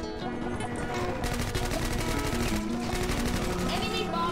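Rapid automatic gunfire in a PvP shooter game fires in dense sustained bursts throughout, under a player's brief voice.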